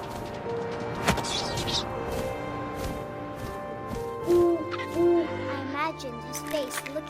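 Owl hoots in the game What Remains of Edith Finch: two short, low, steady hoots sound mid-scene over ambient wind and game noise, with a voice narrating alongside.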